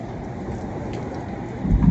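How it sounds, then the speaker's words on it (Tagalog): Steady rain from a storm pours down in a dense, even hiss with a low rumble swelling near the end, no voices. "Nabutan tayo ng bagyo"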